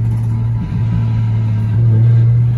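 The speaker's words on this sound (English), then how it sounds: "we are driving the Lexus" Lexus GS300 with a swapped 2JZ-GTE engine being driven: a loud, steady engine drone heard from inside the car, swelling louder toward the end as it accelerates, with no talk.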